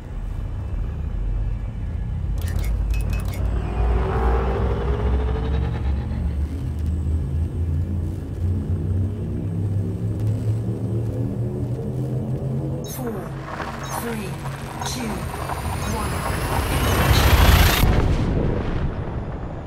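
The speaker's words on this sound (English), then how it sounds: "shift drive charging." A spaceship's shift drive charges in a space battle video game, a deep sustained rumble that builds over many seconds into a loud swelling surge with rising tones near the end.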